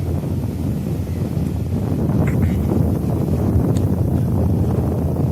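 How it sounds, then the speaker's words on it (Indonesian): Strong wind at the Zaanse Schans windmill village in Holland roars steadily, buffeting a nearby microphone with constant low rumbling and no pauses. "Di sini anginnya kencang banget."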